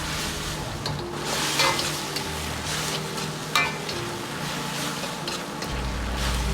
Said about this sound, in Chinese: 锅可以稍微开大一点，保持中火，炒至汤汁渐少，再放入韭菜段，翻炒均匀。